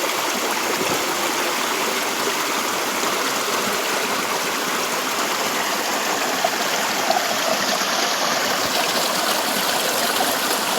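Steady, loud rush of falling water streaming continuously, a full broadband roar with no voices and no breaks.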